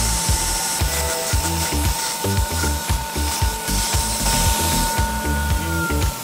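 Belt grinder running a 120 grit belt against a steel centre punch, a steady loud grinding whine with rhythmic low thumps and scraping bursts as the workpiece is pressed and moved, no talking.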